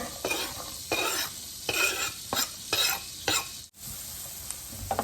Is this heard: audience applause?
no